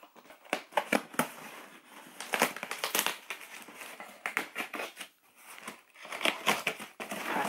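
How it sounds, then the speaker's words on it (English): A knife slices open a cardboard box with close, crackly scraping and ripping bursts that come in irregular, busy runs throughout. "Last one is this box, which we gotta cut open with a knife."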